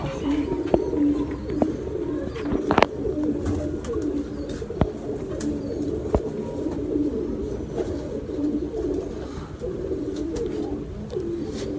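Firozpuri pigeons cooing steadily at close range, a continuous low throaty burble with scattered wing flaps and small knocks, no voices over it.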